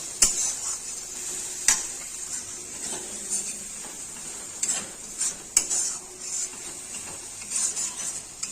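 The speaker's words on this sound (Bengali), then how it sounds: "এখন মশলা পেঁয়াজ সুন্দর করে কষিয়ে নেব" Onions, spices and salt sautéing in oil for village-style mutton curry, a constant bright sizzle broken by repeated clinks and scrapes of a spatula against the pan, near and clear.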